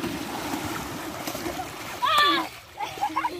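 Children bathing in a canal splash water with a flowing, continuous wash and a louder burst of splashing partway through, while voices talk and call out over the water.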